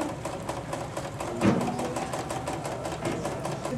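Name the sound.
sewing machine stitching a zigzag applique design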